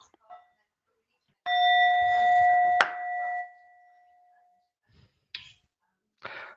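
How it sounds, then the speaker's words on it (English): A meditation bell is struck once, ringing with a clear sustained tone that fades slowly over several seconds in a quiet room, with a few soft faint rustles after. "I'll just begin by inviting the bell."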